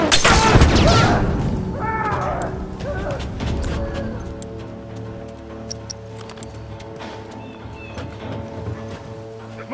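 A heavy boom bursts at the opening of a bomb blast in The Last of Us Remastered, then decays into a long rumbling tail under layered game ambience and tonal effects, with brief voices.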